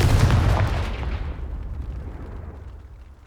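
A Confringo blasting spell explodes in the video game Hogwarts Legacy: one loud, close blast at the start that fades slowly into a rumbling tail over about three seconds.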